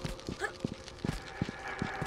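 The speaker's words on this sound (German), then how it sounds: "Ich höre Fußspuren." Rhythmic footsteps in the video game Tomb Raider 3, a steady series of soft thuds at moderate distance over a faint ambient game background.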